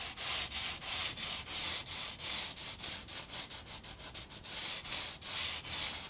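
Fret edges on a budget Squier guitar are sanded smooth in quick back-and-forth strokes. The rasping rhythm is close and clear, speeding into rapid short passes midway, then slowing to longer strokes.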